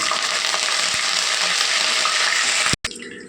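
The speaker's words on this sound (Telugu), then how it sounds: "కరివేపాకు వేగిందండి" Curry leaves and dried red chillies frying in hot oil for a raw banana dish: a loud, dense, steady sizzle that cuts out abruptly near the end, followed by a quieter fizzle.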